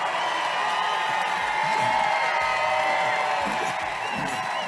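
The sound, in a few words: crowd shouting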